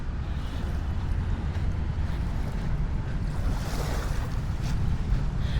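Steady wind and surf wash along Manila Bay Dolomite Beach, a continuous broadband roar with gusty wind buffeting the microphone throughout.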